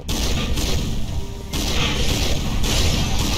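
Thunder Cannon weapon firing in the Ratchet & Clank video game, heavy booming blasts in a dense, continuous roar with several sharp onsets, loud and full.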